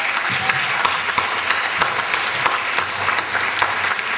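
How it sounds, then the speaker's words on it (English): Audience applause following an energetic dance performance at a dinner and fellowship evening in Johor Bahru, a dense steady patter of clapping sustained evenly throughout at moderate loudness. "Shouldn't we give them another rousing applause?"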